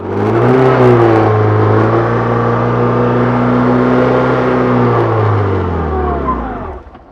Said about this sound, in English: hold the front brake and use the throttle, and that's doing a burnout